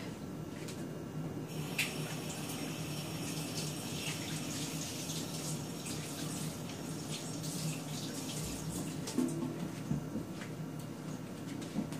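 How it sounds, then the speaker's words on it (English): Tap water runs steadily into a kitchen sink while hands are washed, a soft, continuous splashing with small shifts as the hands move under the stream, fairly quiet and free of talk. "Let me wash my hands real quick."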